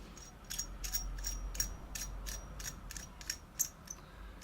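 A metal tube on a mechanical vape mod is screwed in by its threading, giving a series of small, faint metallic clicks and scrapes at an uneven rhythm, close up over a low hum.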